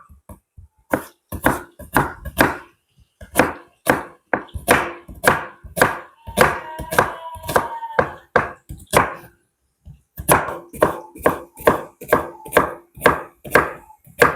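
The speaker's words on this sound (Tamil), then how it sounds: "இப்போ வந்து நாங்க வெங்காயமும் பட்டிட்டோம்" Onions being chopped on a cutting board, a rapid run of sharp, close knife taps in quick bursts with a short pause in the middle, then another fast series.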